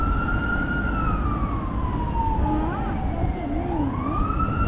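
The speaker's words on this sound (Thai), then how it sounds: "ตรงนี้ยายจิ๋มต้องชะลอให้รถดับเพลิงผ่านไปก่อนนะคะ" Fire truck siren wailing and sweeping up and down as it passes on a morning road toward Bang Saen beach in Chonburi, heard loud and steady over the hum of a car interior.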